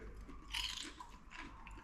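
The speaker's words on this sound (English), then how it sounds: "Listen to the crunch." Someone bites into a crunchy Greek spinach and cheese pie made with twisted filo pastry. Two quiet crisp crunches sound close to the mic, the first stronger than the second, with soft chewing between them.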